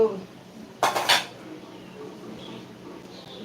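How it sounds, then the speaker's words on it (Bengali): Pots and utensils clatter during cooking of a spicy crab curry, with one loud, close burst of metallic clinks and faint kitchen noise around it. "কাঁকড়ার ঝাল করছি"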